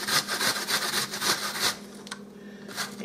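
An onion rubbed against a box grater, giving a run of rhythmic rasping scrapes, close and fairly loud, that stops partway through before a fainter scrape at the end.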